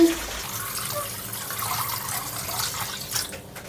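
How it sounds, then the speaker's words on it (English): Tap water rushes steadily into a container for a kimchi brine, a short continuous splashing pour with a brief bump of handling noise near the end. "And then fill it up with water."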